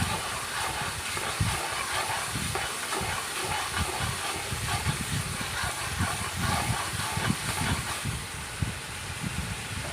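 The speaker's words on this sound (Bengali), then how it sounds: "লো মিডিয়ামে রেখে বারবার নাড়তে হবে" Spices for a pointed gourd and pomfret fish dish frying on low-medium heat while being stirred again and again, a continuous dense hissing sizzle with rapid rough scraping underneath, steady throughout and with no talking.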